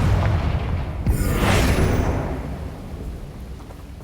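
Confringo and Bombarda spell blasts in Hogwarts Legacy, a deep booming explosion with a sharp crack followed by a bright whooshing burst, over rumbling low background.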